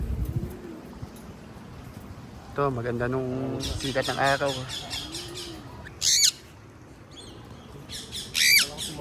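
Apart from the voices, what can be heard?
Indian ringneck parakeets and pigeons calling while flying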